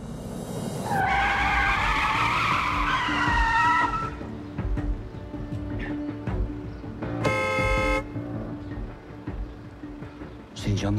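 Car tires screech loudly in a sustained skid for a few seconds, followed by a short blaring car horn and lingering traffic noise.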